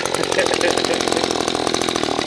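An Echo string trimmer fitted with a brush blade runs close by, its small two-stroke engine buzzing loudly and steadily throughout.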